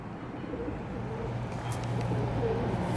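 Pigeons coo softly in a low, steady murmur outdoors, a faint continuous cooing beneath ambient background noise with no talk.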